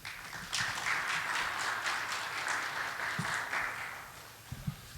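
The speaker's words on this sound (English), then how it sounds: "Please welcome Professor Kang with a warm round of applause." A conference audience applauds for a speaker's closing remarks, a moderate, even round of clapping heard from within the hall that gradually tapers off, with a few louder thumps near the end.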